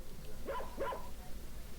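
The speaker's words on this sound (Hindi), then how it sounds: "यस कुत्ते की आवाज़ है" A dog barks twice in quick succession, short yelping calls with a slight whimper quality, moderately close over a low background hum, with no talking.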